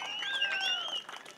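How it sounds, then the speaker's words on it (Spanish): Brief applause from a crowd for dance participants at a dance event, clapping mixed with music carrying whistle-like tones, then fading out in the last half second. "Esos aplausos para estos participantes"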